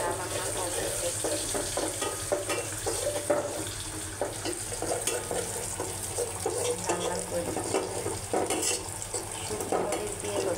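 Spices and chopped bottle gourd sautéed in a pan for a fish curry, a continuous close sizzle with soft scraping stirs and faint watery textures underneath, steady and moderately quiet throughout.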